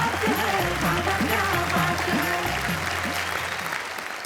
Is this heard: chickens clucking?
no